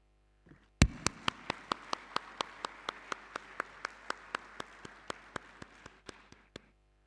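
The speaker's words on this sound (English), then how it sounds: "Ladies and gentlemen, with a resounding round of applause, I introduce to you our keynote speaker, Paul Dasenka." Applause from a conference audience greets a keynote speaker: sharp, evenly spaced claps ring out in a steady rhythm over a soft wash of crowd clapping, lasting several seconds before trailing off. No one speaks.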